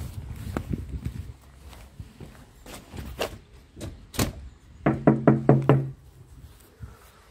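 Knocking on a police station door: scattered single hard knocks, then a quick burst of about five loud raps, close and clear with a quiet outdoor background.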